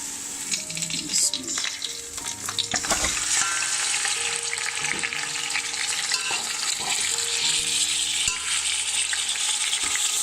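Chicken pieces sizzle and fry in hot oil with browned onions for a Pakistani chicken pulao, a steady close crackle with stirring scrapes throughout, no talking.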